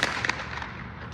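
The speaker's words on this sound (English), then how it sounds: "the sound of gunfire" Rifle shots fired at a Denver condo building, caught on a bystander's phone: a couple of sharp cracks in quick succession at the start, then a lingering echoing rumble, moderately distant and heard alone.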